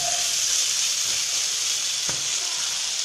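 Grated carrots stewing in a pan give a steady bright sizzle and hiss, with a brief scrape or knock of stirring partway through.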